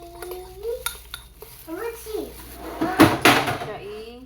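Blended tomato is stirred into ingredients in a cooking pot, with scraping and clinking of a utensil against the metal in short bursts, a few louder knocks near the end, and a person talking over the stirring.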